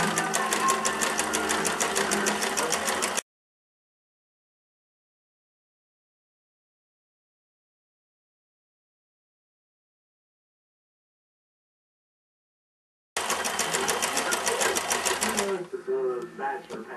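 A sewing machine stitches knit fabric with a stretch stitch, running in a fast steady whirr for about three seconds, then falling silent, then starting again near the end and slowing to a stop.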